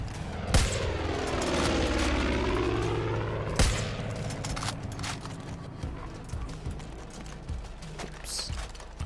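Gunfire and explosive booms in the video game Far Cry 5 as an airplane is shot down, a sustained roaring engine drone with sharp bursts and a loud crack partway through, followed by scattered rattling shots.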